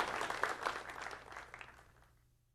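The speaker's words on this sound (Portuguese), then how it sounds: "Palmas para o tímpano." Audience applause after a timpani performance by a youth symphony orchestra percussionist, a short burst of dense clapping that fades away over about two seconds.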